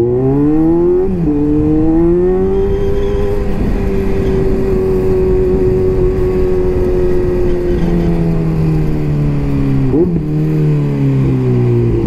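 A loud Kawasaki Z900 motorcycle with a full aftermarket exhaust revs and accelerates nearby, its pitch climbing and dropping sharply as it shifts through gears.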